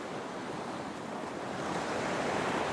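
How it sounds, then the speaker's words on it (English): Ocean waves roll toward a coast in a steady, broad wash of surf that swells slightly louder, with some wind noise and no speech. "You are amid waves, but lurching towards a coast finally."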